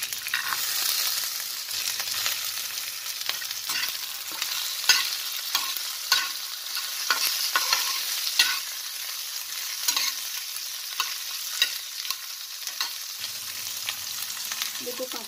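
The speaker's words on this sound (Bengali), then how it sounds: "একটা পেঁয়াজ কেটেছি, আর রসুন, আদা, এগুলো সব আমি ভাজবো।" Onion, garlic and ginger fry in a pan for a surmai fish dish, giving a steady close sizzle with frequent clicks and scrapes of stirring throughout, and no voices.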